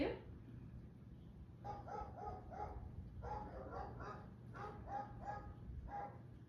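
A dog barks in quick clusters of short yaps, repeated several times over a low steady background rumble.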